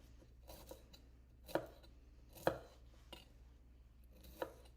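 Knife cutting vegetables on a cutting board while preparing a summer steak dinner: sparse, distinct chopping strokes, about four sharp taps spaced irregularly over a low steady hum, fairly quiet and close.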